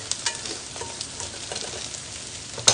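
Onions frying and browning in a pan for a frittata, a close, continuous crackling sizzle with scattered small pops and a brief louder clatter at the end.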